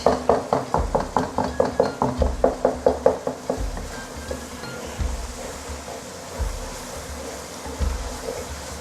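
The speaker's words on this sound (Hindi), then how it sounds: "चलें जी, टमाटर हमारे तकरीबन गल ही चुके हैं। इसको मैं कर रही हूँ मैश।" Cooked tomatoes being mashed in a pan for aloo gobi masala, heard as a quick run of about a dozen evenly spaced wet knocks followed by slower, scattered thumps over a steady sizzle.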